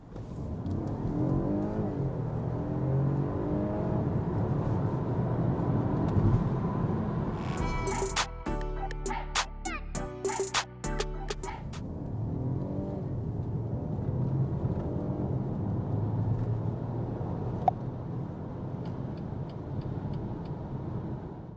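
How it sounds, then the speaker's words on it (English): A BMW X1 25e plug-in hybrid accelerates hard in sport mode with electric drive on auto, its drivetrain whirring and rising in pitch in a steady, close-up cabin drone, broken midway by a burst of clicking and ticking. "So how did you like acceleration test?"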